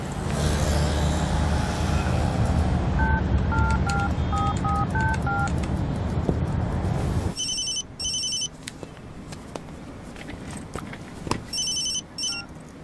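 A newly installed telephone is dialed, giving a quick run of distinct keypad tones. A ringing tone then repeats in bursts over a noisy background with faint traffic-like rumble.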